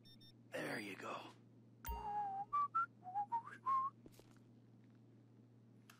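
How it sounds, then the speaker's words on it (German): A person whistles a short tune of several rising and falling notes in Grand Theft Auto V, preceded by a brief muffled voice and a sharp clatter. "Immer schön pfeifen."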